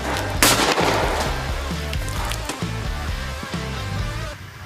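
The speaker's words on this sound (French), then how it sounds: "Tire dans 2 pastèques à la balle de golf." A loud blast from a patator air cannon firing a golf ball through two watermelons: a sharp shot near the start, then dense wet splattering and spraying over a steady rumbling hum that lasts through the rest of the moment.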